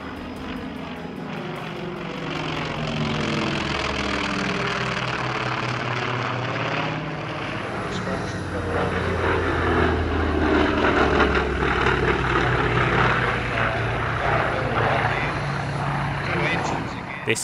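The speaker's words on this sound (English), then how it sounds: "Their DHC-4 Caribou and C-47B Dakota briefly joined in formation with the collection's relatively new S2G Tracker" A DHC-4 Caribou, a C-47B Dakota and an S2G Tracker flying in formation at a warbird airshow, a loud droning propeller roar with rising and falling beating tones as the aircraft pass, building toward the end.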